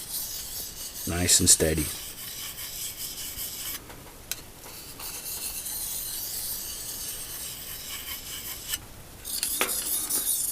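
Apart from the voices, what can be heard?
sharpening a bushcraft knife with steady strokes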